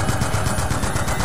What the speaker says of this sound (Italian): La mitraglia.